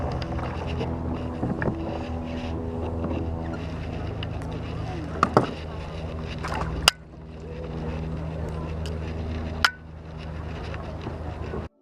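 A boat is paddled back across Lady Bird Lake, with a few soft paddle knocks and splashes under steady wind and low hum; a faint voice may sit in the background.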